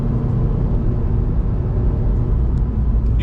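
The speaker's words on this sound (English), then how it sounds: "Hear a little bit of the whirl of the turbo." A 2020 Subaru WRX cruising with a faint turbo whir riding over a steady low road and engine rumble, continuous and fairly loud from inside the cabin.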